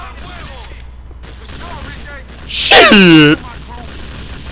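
Gunfire in GTA IV: The Ballad of Gay Tony, a loud burst of shots lasting about half a second that stands out sharply over quieter game sounds, with someone talking briefly before it.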